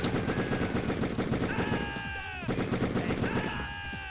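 Shotgun-armed enemies in the video game Die Hard Trilogy trade gunfire, clustered bursts of shots over a busy game soundscape, with falling whistling tones and a speaker talking underneath.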